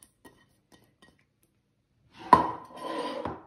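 Chopped zucchini, onions and tomatoes tumble back into a cleaned salad bowl, a brief clatter and scraping rustle of vegetables against the bowl after near silence, close and moderately loud.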